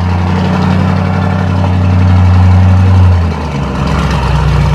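A Lamborghini Urus with Fabspeed downpipes and a tune, making over 700 horsepower, idles just after a cold start. A loud, steady, deep rumble holds throughout and swells briefly before easing slightly near the end.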